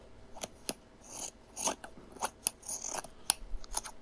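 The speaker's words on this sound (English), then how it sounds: "cutting the cloth with her shearing scissors" Shearing scissors cut through costume cloth in a quiet room, giving a series of crisp separate snips at an irregular pace, close and clear with no voices.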